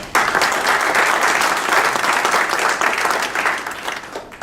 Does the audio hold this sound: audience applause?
yes